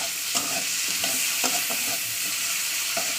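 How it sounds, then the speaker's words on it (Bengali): Chopped onion fries in hot oil with a steady, hissing sizzle, broken by soft scrapes and taps of stirring at irregular intervals. "পেঁয়াজটা একটু ভাজা ভাজা করতে হবে"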